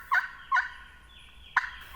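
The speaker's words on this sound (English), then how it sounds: "getting very aggressive with his slate call" Three sharp, raspy yelps from a turkey slate call during a spring turkey hunt in Mississippi, two close together then one after a pause, loud and near against a quiet background.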